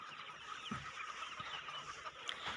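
Busy clucking from a flock of chickens being fed, steady and overlapping, with scattered soft knocks and rustles over a constant background hiss.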